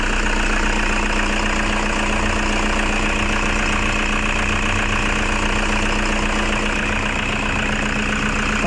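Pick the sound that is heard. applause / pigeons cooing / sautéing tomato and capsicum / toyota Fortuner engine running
toyota Fortuner engine running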